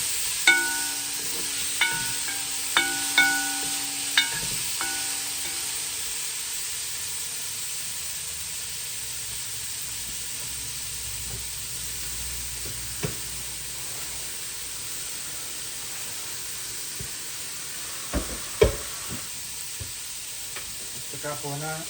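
Ingredients for fish sinigang sautéing in a pan, a steady sizzling hiss throughout with a few clinks of a utensil against the pan early on and again near the end.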